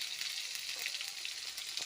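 Tomato and spices fry in mustard oil in a wok, a soft, even sizzle with light crackles throughout, heard close but at low volume.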